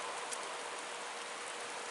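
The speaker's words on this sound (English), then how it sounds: "It's just raining today" Steady rain falls outside a porch looking out on foggy mountains, an even, continuous hiss of drops close by with no voices.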